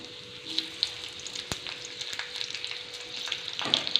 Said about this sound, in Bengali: আমি ফোড়নের মধ্যে দিলাম কিছুটা গোটা জিরে, আর দিচ্ছি দুটো তেজপাতা, আর দেব কাঁচা লঙ্কা।